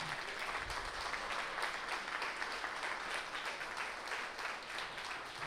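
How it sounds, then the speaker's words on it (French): An audience at a business event closing session applauds steadily throughout, a dense, even wash of clapping heard from a distance at low volume, with no talking. "Vraiment, je vous demande de les applaudir"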